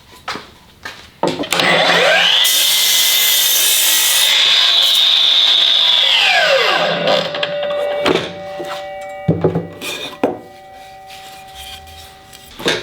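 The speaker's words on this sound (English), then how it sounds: "now that we fired the saw up and we made a cut with it" Milwaukee M18 12 inch cordless miter saw spinning up loud and cutting through wood, with a steady high whine during the cut that winds down as the electronic brake stops the blade, followed by a few clunks and knocks.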